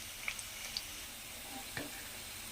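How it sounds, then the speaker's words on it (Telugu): Onion pakodas fry in hot oil with a steady, even sizzle that continues throughout, broken by a few faint ticks and stirring clinks. "పకోడీ అయితే ఇవి కూడా ఫ్రై అయిపోయినాయి ఫ్రెండ్స్"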